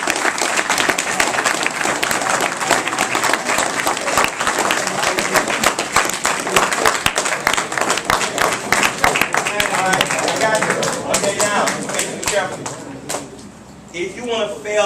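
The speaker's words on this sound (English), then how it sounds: "If you want to be a success in life, clap." A live audience claps in a dense, sustained burst for about thirteen seconds at a motivational talk, loud and continuous before tapering off at the end.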